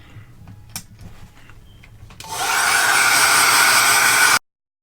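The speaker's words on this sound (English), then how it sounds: "then I dry it using my blow dryer" A blow dryer roars on loud and steady for about two seconds, drying setting mist on a face during a makeup routine, then cuts off abruptly; faint handling sounds come before it.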